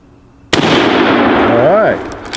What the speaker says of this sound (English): there's a little bit of cinder block over there on that barrel